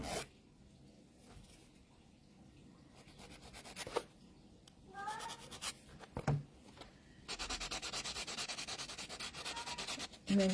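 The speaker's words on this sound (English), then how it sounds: "just go in with the buffing block, as I say, and get any bits and pieces off that are left on there" A buffing block rubs across a fingernail after dip powder removal, giving short scratchy strokes that pause and resume, then a longer run of fast, even back-and-forth rubbing, close and fairly quiet.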